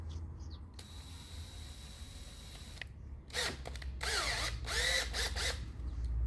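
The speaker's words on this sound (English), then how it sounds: "Then we're going to take our drill" A power drill whirs in several short bursts while drilling a gun barrel, revving up and down, with a faint mechanical hum between runs.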